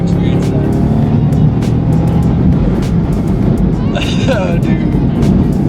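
A Bugatti car accelerates through its gears with a loud continuous engine roar close up, while people talk over it.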